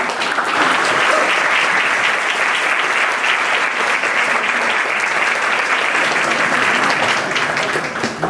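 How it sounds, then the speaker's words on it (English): An audience at a corporate workhacks talk event in Berlin breaks into loud, sustained applause, a thick, even roar of clapping hands that holds steady for several seconds without any voice over it. "Give them a huge applause."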